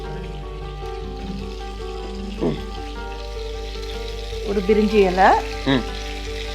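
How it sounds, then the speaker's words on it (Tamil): Whole spices such as cinnamon, cloves, cardamom, fennel and a bay leaf sizzle steadily in hot oil for a single-pot chicken biryani. A low, continuous frying crackle runs throughout, with a few brief stirring clatters and a spoken voice over it. "அந்த பட்டை, கிராம்பு, ஏலக்காய், as usual சோம்பு எல்லாம் போட்டு தாளிக்க போறோம்."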